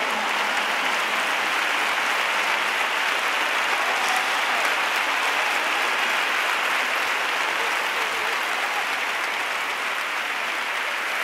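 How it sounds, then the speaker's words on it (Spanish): A stadium crowd at a concert in Seville applauds in a sustained, dense wash of clapping that stays level throughout, broad and distant-sounding, with no speech over it. "Ese fuerte aplauso para todos"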